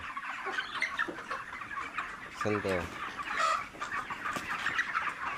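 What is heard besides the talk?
chickens clucking in a poultry shed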